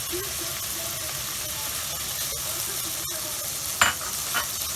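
Onions and meat sauté together in a pan for a meat and fresh pea dish, giving a steady close sizzle broken by a few sharp clicks of stirring, with no talking.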